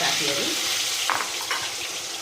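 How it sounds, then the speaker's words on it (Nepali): Fish fries in a pan for a simple fish curry, a dense close sizzle with crackling spatters and a few stirring clacks, steady throughout with no speech. "म अरु माछाहरूलाई पनि फ्राई गर्दैछु।"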